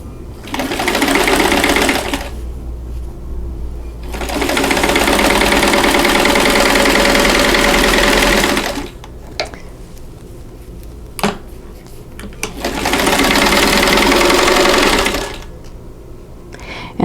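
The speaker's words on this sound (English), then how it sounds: "I'm going to sew those together." A sewing machine stitches quilt block rectangles together in loud, close bursts of steady whirring, each running several seconds, with quieter gaps between seams and a faint click or two.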